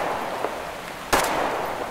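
A single gunshot from a rifle in Metro Exodus cracks out loud and close partway through, a sharp broadband burst with a short tail, set against a steady background hum.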